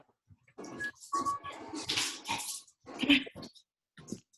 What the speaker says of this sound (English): My dog is so old she can't move and she's like crying